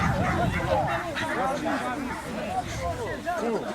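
Several dogs at a dog show in Volochysk district, Ukraine, yap and yelp in short bursts, some whimpering, over a murmur of people talking nearby.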